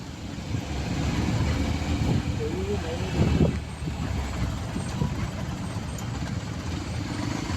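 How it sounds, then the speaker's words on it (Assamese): Traffic from a rally of cars and motorbikes rumbles steadily nearby, engines droning with a brief louder pass midway, under a busy crowd background. "এইপিনে গাড়ী ৰেলী এইপিনে বাইকৰ ৰেলী"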